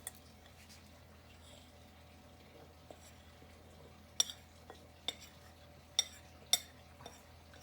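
A utensil stirs flour into rhubarb sour cream muffin batter in a bowl, making faint soft scraping and a few sharp clinks against the side of the bowl, spaced out and otherwise quiet.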